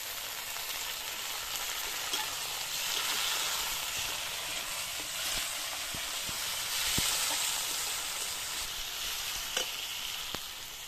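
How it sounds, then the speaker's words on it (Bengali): Tomato and green chili frying in a pan, a dense steady hiss and crackle with occasional clicks of a stirring utensil, close by and with no voices. "এবার টমেটো, কাঁচা লঙ্কাটা দিয়ে দেবো।"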